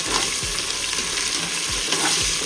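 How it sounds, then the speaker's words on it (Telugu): Onions and ginger-garlic paste fry for a spicy Telugu-style mutton curry, giving a dense, continuous sizzle with a few soft spoon sweeps through the pan. "సో మంచి అల్లం వెల్లుల్లి పేస్ట్ వేసి కలిపేసుకున్నాం."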